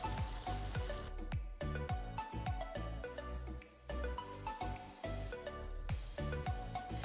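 Nutmeg and pepper get stirred into a hot frying pan for flatbread toppings, with crackling sizzle and repeated scraping, clinking strokes of a utensil close up, quiet overall and no talking.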